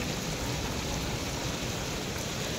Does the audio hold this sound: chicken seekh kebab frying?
no